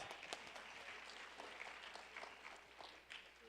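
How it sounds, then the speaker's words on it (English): At a South Asian spring festival, a crowd claps steadily throughout, a dense patter of many hands with no pauses, fairly loud and close. "Big round of applause."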